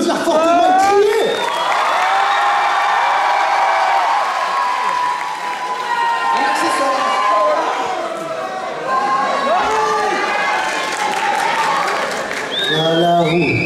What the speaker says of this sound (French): donc on peut applaudir fortement et crier.